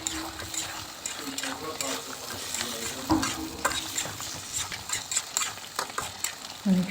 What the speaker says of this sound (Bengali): দেখুন, মাংসটা আমার ভাজা হয়ে গেছে এবং তেল বেরিয়ে আসছে।